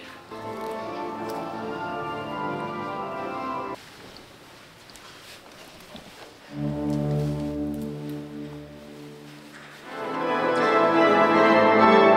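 Church pipe organ chords sound through a reverberant space in Spain, sustained tones that drop away briefly then swell back, moderately distant with faint background noise.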